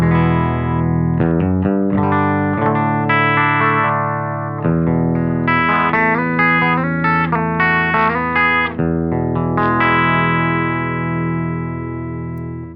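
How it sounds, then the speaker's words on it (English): Scythe Guitars OH20 electric guitar played through a Silktone amp and a Thorpy FX Boneyard pedal, giving a loud, saturated, sustained tone with overlapping chords and single notes ringing steadily throughout, no voices. "I am running a Scythe Guitars OH20 into a Silktone amp, and that sounds like this."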